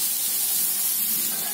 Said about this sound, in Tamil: இந்த சைடு கொஞ்சம் எண்ணெய் விட்டுக்கலாம்.